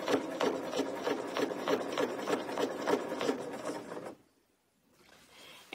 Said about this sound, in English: I'm going to stitch up to the corner